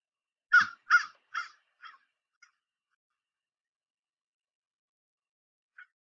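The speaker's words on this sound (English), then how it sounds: "It's a crow." A crow gives three loud, harsh caws in quick succession, followed by a few fainter, shorter calls and then a long silence broken by one last distant caw.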